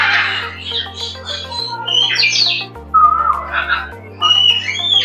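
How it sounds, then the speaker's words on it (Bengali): Several birds call and whistle in a park, including yellow parakeets, with bright chirps and tweets rising and falling across the whole stretch, fairly close and clear, with no voices. "পাখি ডাকছে দেখেন"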